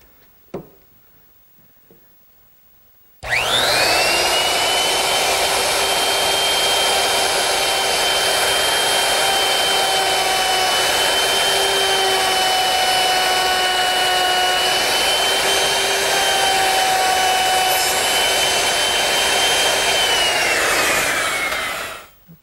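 A router fitted with a 5/32 ogee bit and ball-bearing guide spins up after a few quiet seconds, then whines loudly and steadily as it molds wood edges for about nineteen seconds before winding down.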